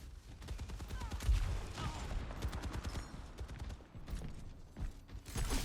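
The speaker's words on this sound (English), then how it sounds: "Rocket barrage incoming." Overwatch gameplay with a rocket barrage: a dense, rapid fusillade of rocket launches and mechanical clatter, loud and continuous with busy game effects layered throughout.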